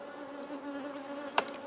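Honeybees in a busy Langstroth hive give off a steady close hum, with a brief sharper buzz near the end as a single bee passes close.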